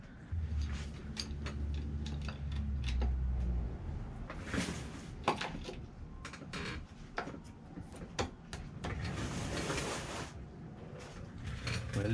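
A ratchet wrench with a deep socket works on a sprocket of a Jeep Cherokee 4.0L engine during an overhaul, giving repeated close metallic clicks and ticking over a steady low background hum, with no talking.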